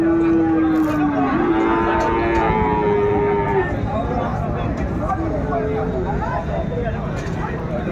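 Sahiwal bulls at a cattle market in Dinajpur, one giving a long, loud, drawn-out moo at the start, followed by rougher lowing amid busy market background noise.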